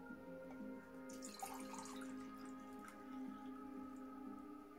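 Water trickles and splashes steadily into goblets during a magic trick, a soft continuous pouring sound with faint bright splashes over a low, constant hum, and no one speaking.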